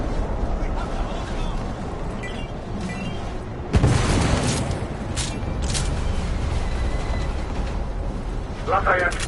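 Explosion aboard an airship in The Order: 1886, a sharp loud blast breaking through a constant mechanical rumble and creaking, then rough debris noise trailing off, with voices heard in the scene.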